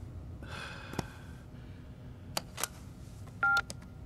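Several short electronic tones sound in quick succession, like keypad beeps while a phone number is dialed, with a faint background hum between them.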